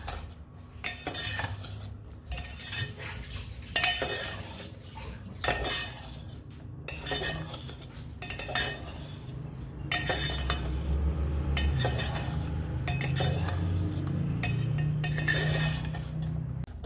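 A spoon stirs chicken kunna in a metal cooking pot, making a series of separate clinks and scrapes against the pot with a low sizzle building underneath.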